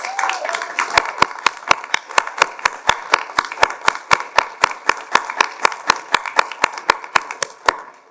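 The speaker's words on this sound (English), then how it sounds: "Please give them a round of applause." Audience at a Veterans Day ceremony applauding veterans organizations: a sparse spread of clapping dominated by one nearby pair of hands striking in a steady, evenly spaced rhythm, with softer crowd clapping behind.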